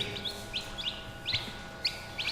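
Repeated short, high-pitched peeps from newborn chicks, about six to eight in quick irregular bursts, over a low steady background hum, on a farm in Portugal.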